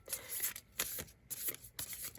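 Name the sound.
shuffling a deck of cards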